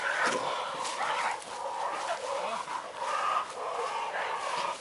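A Kangal dog whimpering and yelping in short, high-pitched cries after a fight, fairly close, with a few soft sounds around it and no clear talk.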